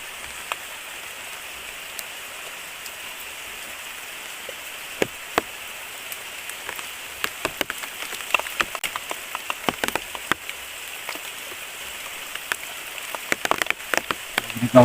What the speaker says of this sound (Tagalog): Malakas na ulan. Ayan na.